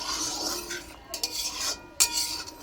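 Split green chillies being stirred into curry gravy in a pan, with a utensil scraping and clinking against the metal in irregular strokes over a steady background hiss, close and moderately loud.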